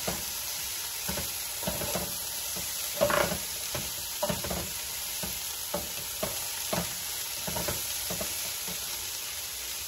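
Onion and chili frying in a pan for chicken fajita tacos, a steady sizzle broken by repeated spatula stirs and scrapes in an uneven rhythm, close up with no talk.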